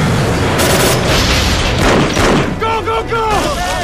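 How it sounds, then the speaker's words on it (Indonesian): Gunfire rings out in a film shootout scene set behind Iraqi army lines, dense booming shots and bursts up close, with shouting voices over the end. "Gak lama kemudian keberadaan mereka diketahui dan terjadilah baku tembak di sana."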